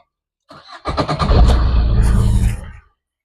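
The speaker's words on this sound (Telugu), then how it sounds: "ఒకసారి ఇంజిన్ కూడా స్టార్ట్ చేసి చూపెడతానండి" A 2015 Maruti Swift Dzire VDI diesel engine cranks briefly and fires up, settling into a loud, close idle for about two seconds before the recording cuts off.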